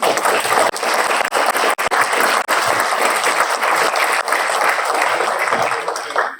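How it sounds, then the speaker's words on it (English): An audience at a festival panel discussion applauding, a dense, loud wash of clapping from a room full of people that carries on steadily before trailing off at the end. "Just ask you all to give a round of applause for our panel."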